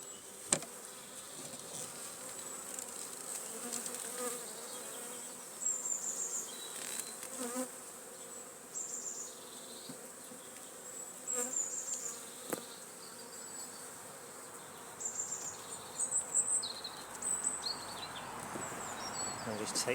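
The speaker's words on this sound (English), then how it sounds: "Say a nice lot of bees in the super." Honeybees buzzing steadily in the super of a WBC hive, a dense close hum with occasional individual bees flying past, faint throughout.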